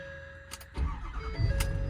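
A 2011 Ford F-550 truck engine cranks briefly and catches, then settles into a rough, loud idle with a few sharp mechanical clicks near the end.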